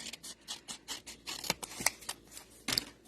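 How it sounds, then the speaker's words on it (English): Sharp scissors snip carefully around a small paper piece being fussy cut for a handmade card, a quick series of close, crisp snips and rustles in a quiet room. "use your good scissors, and you turn the paper, not the scissors"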